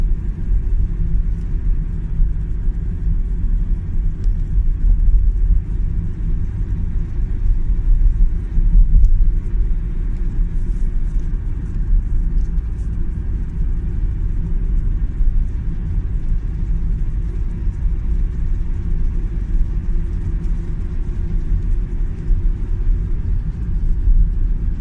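Car driving along a city road in the Bronx, New York, with a steady low rumble of engine and tyres heard from inside or nearby, continuous and fairly loud without talking.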